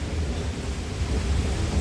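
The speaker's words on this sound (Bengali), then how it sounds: "বাহ, বৃষ্টি তো থামতেই নেই।" Heavy cyclone rain pours down near a bypass in Kolkata, a dense, unbroken roar of water with a deep rumbling undertone and gusty wind noise, close and loud throughout.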